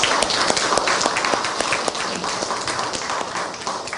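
Congregation applauding the choir and instrumentalists at a university chapel service, a full sustained round of clapping from a large room, steady and fairly loud throughout.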